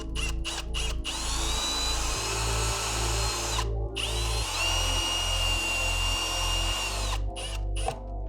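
A power drill drives screws for a blind bracket into bracing behind a window casing, its motor whining steadily in several long runs with brief pauses and pitch shifts between them, close and loud.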